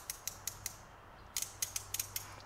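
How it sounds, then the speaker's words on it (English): A Matco Silver Eagle quarter-inch ratchet clicks close up in two quick bursts of sharp, evenly spaced ticks separated by a short pause. "I believe it's just a 60 tooth count on this ratchet"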